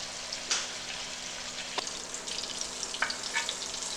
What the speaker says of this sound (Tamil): மீடியம் ஃப்ளேம்லேயே வச்சு நிதானமாக வறுத்து எடுக்கணும்.